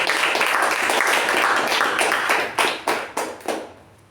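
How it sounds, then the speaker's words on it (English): A meeting audience at a Toastmasters club gives a round of applause, steady clapping from a small group that thins out into a few last separate claps. "Can we have a huge round of applause?"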